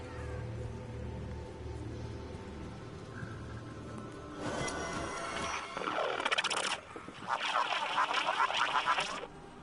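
A bird calls in a PS5 video game, sounding as several bright, warbling bursts over a low rumble of game ambience, with the calls growing louder and denser toward the end.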